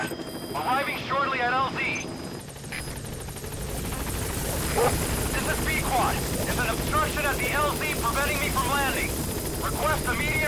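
The support helicopter arrives in Metal Gear Solid V, its rotor thumping loud and steady throughout while voices talk over it.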